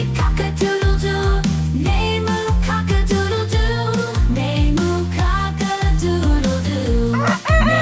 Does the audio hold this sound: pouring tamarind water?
no